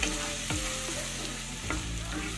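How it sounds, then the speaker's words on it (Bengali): Chopped onions frying slowly in a pan over medium heat give a steady, close sizzle, with a few soft stirring scrapes. "গ্যাসের হিটটা মিডিয়ামে রেখে পেঁয়াজগুলোকে ধীরে ধীরে ভেজে নিতে হবে।"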